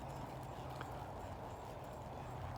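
An older horse with bad habits being ridden in a training session, hooves clip-clopping in a steady faint rhythm under a constant low background hum, with no talking.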